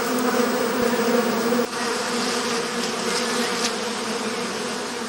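A thick, continuous hum of many honey bees gathered at an artificial hive, close and loud, with a slight dip early on and then a steady drone; no speech.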